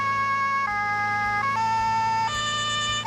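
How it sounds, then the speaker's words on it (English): Two-tone police siren from Autobahn Police Simulator 3, the video game, wailing steadily and loudly up close, switching pitch in alternating steps with no talk over it. "So I'm actually gonna kill the siren for now"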